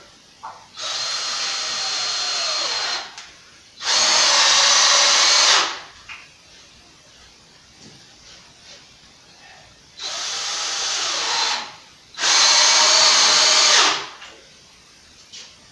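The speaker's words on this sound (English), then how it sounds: "I can just put the screws here in the middle here" A power drill drives screws into a 2x4 concrete header board in four loud bursts of whirring, each lasting about two seconds, separated by quiet pauses.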